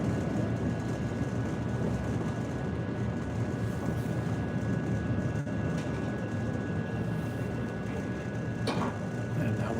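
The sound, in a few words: Chicago Green Line elevated train pulling into station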